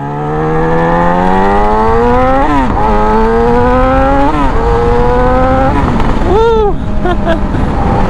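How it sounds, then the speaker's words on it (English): A Yamaha YZF-R6 sport motorcycle engine roars near and loud, climbing in pitch through several gear shifts, each with a brief dip before rising again, then a final sharp rev. "We'll give it a little bit of gas. This is a loud bike."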